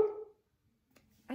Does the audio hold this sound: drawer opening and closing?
no